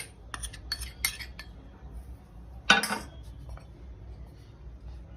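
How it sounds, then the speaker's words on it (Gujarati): Metal spoon clinks and scrapes against a vessel as maida flour and water are stirred into a thin batter for spring roll sheets, a few sharp clinks with one louder knock, close and alone with no talk. "થોડું થોડું પાણી એડ કરીને મિક્સ કરતું જવાનું છે, અને પતલું એકદમ ખીરું બનાવી દેવાનું છે"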